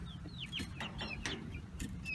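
Backyard homestead chickens, leghorns and barred rocks, cluck and chirp softly in a steady, quiet scatter of short calls.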